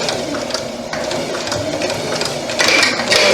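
A sewing machine stitches in an invisible zipper, whirring at close range with a rapid mechanical chatter that grows louder and busier near the end.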